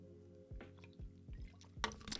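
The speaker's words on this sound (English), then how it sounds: "So I'm going to take a little sip." A few small slurping sips of a drink, quiet and close, followed by a short wet swallowing sound, with no talking.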